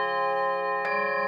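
Tibetan singing bowl struck with a suede mallet rings with a sustained, steady tone, and a second soft strike lands partway through over the continuing hum.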